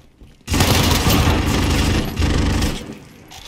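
Sustained automatic gunfire fills a Call of Duty: Modern Warfare match, bursting in loud and close after a short quiet lead-in and hammering on for about three seconds before easing off.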